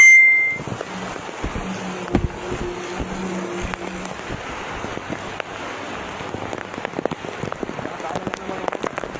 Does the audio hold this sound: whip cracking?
no